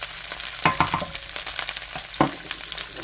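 Food sizzling and bubbling in a pan on medium heat while making Philly cheesesteak filling, a steady close crackle with a couple of brief stirring clanks.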